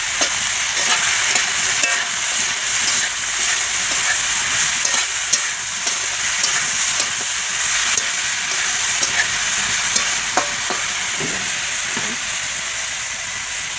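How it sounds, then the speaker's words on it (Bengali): Sliced potatoes fry in a pan in a home kitchen: a constant close hissing sizzle with scattered clicks and scrapes from stirring, no voices. "তো ওইদিকে আলু ভাজতে দিয়ে দিয়েছি"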